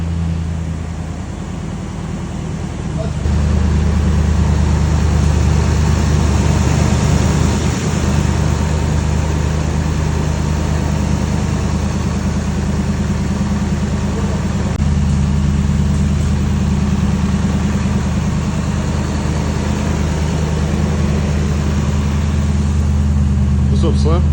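A Lexus GX470 engine runs steadily at idle, a loud, low, constant drone that steps up slightly after a few seconds, with people talking over it.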